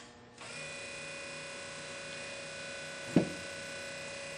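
A VSB burnishing machine runs at high speed for grinding, giving a steady, even high-pitched whine after a brief start-up, broken by a single sharp knock near the end.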